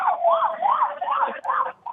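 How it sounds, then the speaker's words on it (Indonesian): An ambulance siren wails in repeated rising-and-falling sweeps, loud and close, heading toward an air force plane crash site on the slopes near Puspo, with brief dropouts between cycles. "Suara ambulans sudah terdengar di Kecamatan Puspo"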